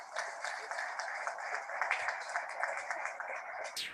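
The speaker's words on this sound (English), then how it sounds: "Let's have a warm round of applause for all our Padma doctors." Faint, distant audience applause for doctors at a healthcare event, a steady patter of many hands clapping for a few seconds.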